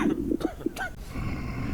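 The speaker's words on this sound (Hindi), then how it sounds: "ये छींकेगा, हिचकी लेगा, खांसी ले रहा है" An infected person in the video game Quarantine Zone coughs and hiccups in a few short, close bursts, followed by raspy, sick breathing.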